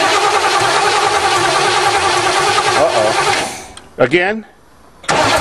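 An old Chevrolet engine cranks on its starter with the spark disconnected: a loud, steady, rhythmic churning for about three and a half seconds that then stops, followed by someone speaking briefly.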